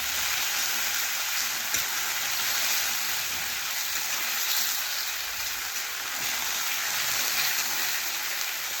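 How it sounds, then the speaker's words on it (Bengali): Pointed gourd curry simmers and sizzles in a pan after water is added, a steady hissing bubble with faint scraping as it is stirred, continuous and close. "একটু আমি জল দিয়ে দিলাম, জল দিয়ে আবারও 2-3 মিনিট নাড়াচাড়া করে নিচ্ছি।"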